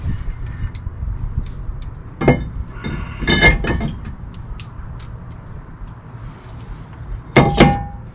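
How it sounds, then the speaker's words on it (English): A brake rotor is fitted onto the front hub of a 2016 Toyota Sienna XLE during a brake job, giving a few sharp metallic clinks and clanks: one early, a cluster near the middle and a loud one near the end, over quiet background. "Putting on the rotor."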